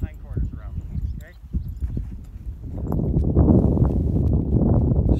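A horse steps backward in a steady series of hoof clops during groundwork training of a competition horse, the footfalls close and mixed with rustling and a trainer's voice.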